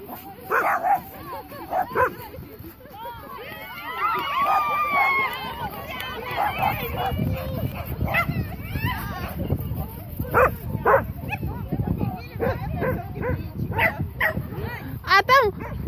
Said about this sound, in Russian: Да, собака, да.